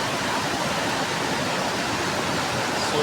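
Clear river water flowing after a storm, a steady, unbroken rushing wash like a stream or small waterfall, close and even throughout.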